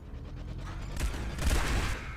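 Iron cannons fire in a strategy video game, a rumbling volley of heavy booms that swells after a quieter start, dense low thuds layered over a steady background roar.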